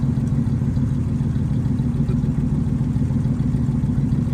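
A V8 430 car engine with automatic transmission idles steadily with a deep, low rumble, constant and close, with no voices over it.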